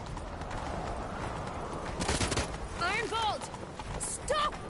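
Roach, Geralt's horse in The Witcher 3: Wild Hunt, gallops with fast, steady hoofbeats under shouting voices and game sounds.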